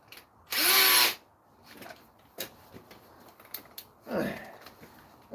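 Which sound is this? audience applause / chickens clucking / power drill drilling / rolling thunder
power drill drilling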